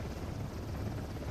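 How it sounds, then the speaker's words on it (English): A helicopter in the video game Uncharted: The Lost Legacy, heard as a steady low rotor drone that stays even throughout, with no talk over it. "Helicopter's gone."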